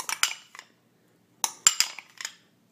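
Clinking and scraping in short bursts as a utensil stirs Epsom salt in a bowl, two clusters separated by a brief silence.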